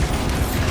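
Bombarda spell blast in Hogwarts Legacy, a short dense rumbling burst lasting under a second.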